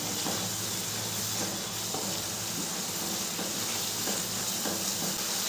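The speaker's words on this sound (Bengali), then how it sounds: "নুনটা দিয়েও মশলাটা খুব ভালো করে আমি কষিয়ে নেব।" Spice masala with salt fries in a pan while being cooked down for a Bengali egg curry (dimer kalia). It gives a continuous, even sizzling hiss with faint stirring scrapes, close by and with no talk.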